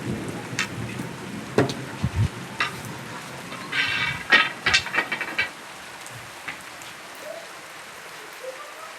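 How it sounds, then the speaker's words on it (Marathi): Heavy rain pours during a village fair on Gudi Padwa, a steady wash of falling water with scattered nearby knocks, clatters and brief bursts of activity over the constant hiss. "इकडं पहा किती पाऊस चालू आहे जोरात चांगला."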